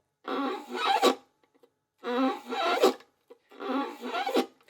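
Three rasping chop strokes on a fiddle, the bow dragged down and around, each swelling and then cut off sharply, separated by short silences, close up.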